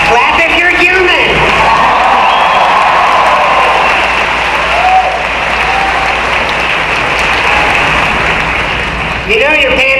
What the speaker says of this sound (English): Clap if you're human.